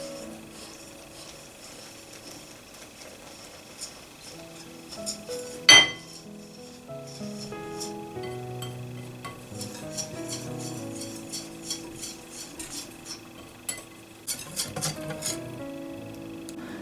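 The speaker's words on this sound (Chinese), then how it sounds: "边倒边搅拌" Beer batter for fish and chips is stirred while being poured, giving steady light clinks and taps of a utensil against a bowl, with one sharper knock, over soft background music.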